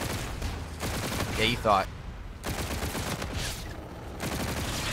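Bursts of rapid automatic gunfire from a gun in Call of Duty: Infinite Warfare crackle through constant talk, with short volleys coming and going across the few seconds.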